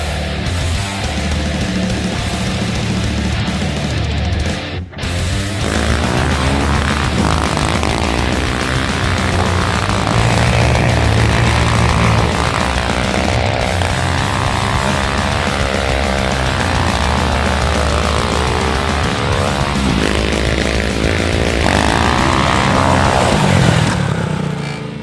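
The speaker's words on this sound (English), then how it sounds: "this is my 250cc powered 5-speed motorised Esky" A 250cc Chinese motorbike engine with a five-speed gearbox powers a motorised Esky cooler, running loud and steady throughout with revs rising and falling, close by and with no talk over it.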